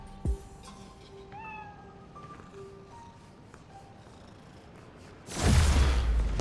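A cat meows in Marvel's Spider-Man: Miles Morales, a couple of short close meows over a quiet game ambience, followed by a loud whoosh near the end.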